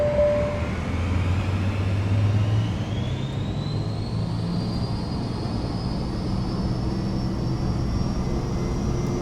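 Cirrus SF50 Vision Jet in Flight Simulator 2024 throttling up and taking off down the runway, a steady loud jet roar with a rising whine that climbs over the first few seconds and then holds, no talking.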